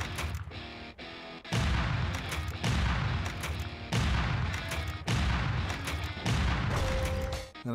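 Repeated bursts of shooting in the Nintendo Switch game Game Builder Garage: loud, dense volleys of gunfire-like blasts that recur roughly every second with short gaps between them.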